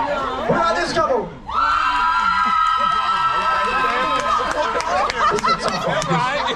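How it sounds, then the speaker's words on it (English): A small crowd on the Carnival Horizon cruise ship cheers and whoops loudly in a sustained burst, with voices shouting together over the noise. "only 8 people cheered, but the 8 people that did cheer were very loud"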